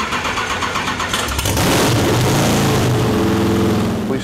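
A freshened-up race car engine cranks with a clattering starter, catches with a loud burst, then settles into a rough, throbbing idle close by, with no talk.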